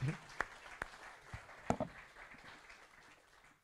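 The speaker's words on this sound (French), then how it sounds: "Applaudissements pour un Jacques Boll" Short burst of applause at a French motorcycle Grand Prix press conference, a few scattered claps standing out over a murmur of voices, fading away within seconds.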